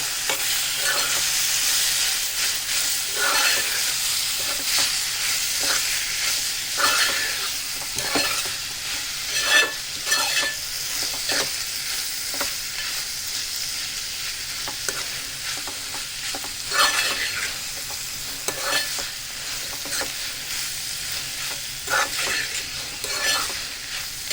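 Cabbage curry being stirred in a frying pan, with a steady hiss of sizzling oil beneath repeated scraping strokes of a spoon against the pan, close and fairly even, with no talking.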